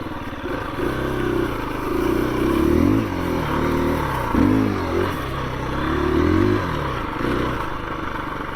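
A 2021 KTM 350 EXC-F four-stroke dirt bike engine droning steadily while riding in third gear at quarter throttle, rising and falling in pitch with throttle changes, loud and close, with some clatter and no talking.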